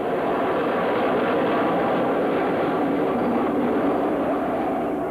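Vertijet jet aircraft in horizontal flight, a steady, loud broadband jet roar holding constant throughout with no breaks.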